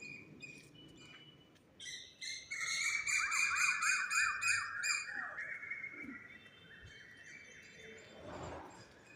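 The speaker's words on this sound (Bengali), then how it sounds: "কিন্তু বিকেল বেলায় তো পাখিরা প্রচুর ডাকছে।" Evening birdsong in spring, with several birds chirping and trilling in a dense, lively chorus that swells after the start and then thins toward the end, fairly close and without any talk.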